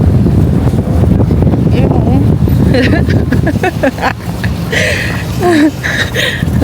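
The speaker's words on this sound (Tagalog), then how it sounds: "kaya mabilis lumaki yung apoy dito kasi ganito kagrabe yung hangin ngayon sa Amerika" Strong wind in California buffets the microphone with a constant low roar throughout, while people talk over it.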